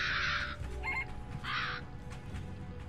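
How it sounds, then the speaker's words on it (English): Crows gathered on a train, giving two harsh caws close by with a fainter call between them over a steady background hum. "A lot of crows on this train?"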